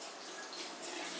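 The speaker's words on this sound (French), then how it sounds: "on le rince rapidement" Water from a tap runs steadily over a part of an Omega VRT juice extractor being quickly rinsed after making wheatgrass juice, a soft continuous splashing hiss.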